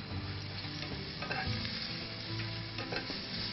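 Garlic and ginger frying in a pan, a quiet, steady sizzle with soft stirring scrapes, close and without voices.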